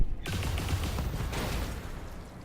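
Mech weapons fire in a rapid, dense volley from the BattleTech video game, with heavy low booms layered over crackling bursts that start abruptly and keep going at a steady, loud level.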